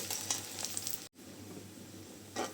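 Chopped onions, about one and a half onions' worth, sizzle steadily as they fry toward brown, a constant broadband hiss with a brief dropout midway and a louder surge near the end, no voices.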